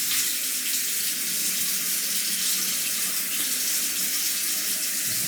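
A bathroom tap runs steadily into a sink to wet the face before shaving, a continuous close hiss of flowing water with no talking.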